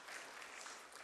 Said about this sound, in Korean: 우리 박수로 한번 다시 환영하시겠습니다